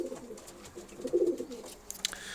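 Sport pigeons in a loft give soft, low throaty coos in a couple of short bursts, close by, with faint rustling and a few light clicks near the end.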